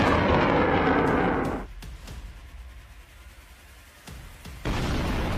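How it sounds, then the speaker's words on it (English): HIMARS rocket artillery opens fire with a loud, roaring launch blast that fades into a rumble broken by sharp cracks, then a second heavy roar builds near the end. "HIMARS reacts quickly and opens fire."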